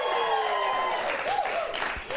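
A studio talk-show audience applauds in a dense, sustained burst of clapping that slowly thins out, with cheering whoops and a voice rising over the crowd.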